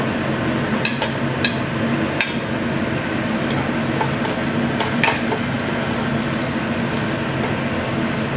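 Garlic sautéing in hot oil for ginataang tilapia, a loud, steady sizzle that fills the whole stretch, with a few sharp spoon clicks near the start and middle.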